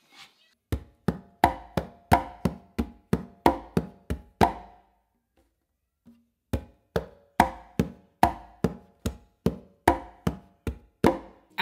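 Congas are hand-played in a clave independence exercise of bass, finger and slap strokes, a fast, steady run of close, crisp hits that breaks off for a short pause, then resumes with no voices.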